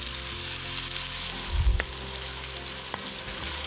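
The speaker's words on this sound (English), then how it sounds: "We add a 1/4 cup of bacon fat to a Dutch oven over medium heat. And we add the onions and cook them until they are translucent." Onions frying in bacon fat in a Dutch oven over medium heat, giving a soft, steady sizzle with a brief muffled stir or clunk partway through.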